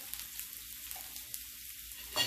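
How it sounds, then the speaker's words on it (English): Soup cooking in a pot at home, a soft continuous bubbling hiss with faint clinks, ending with a brief louder knock near the close. "that soup is cooking"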